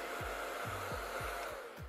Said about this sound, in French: comme ça sèche pas assez vite, eh ben on a pris le sèche-cheveux.